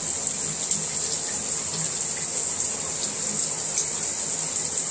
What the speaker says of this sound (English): you pull this thing and put the shower on, and the shower is letting water go down through